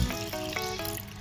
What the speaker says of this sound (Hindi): थोड़ा सा पानी शामिल करें इसमें